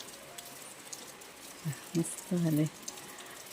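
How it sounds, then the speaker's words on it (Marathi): Light rain patters softly in the background while a voice speaks briefly over it. "बारीक बारीक पाऊस आहे म्हणजे आत्ता जरासं कमी झालं आहे"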